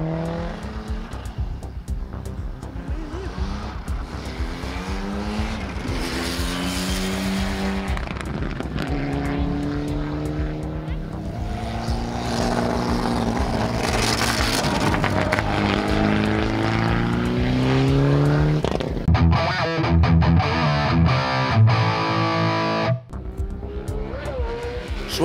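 Rally cars tear through a special stage, engines roaring continuously and loud with shifting pitch as they accelerate, a brief tire squeal in places, steady and close throughout.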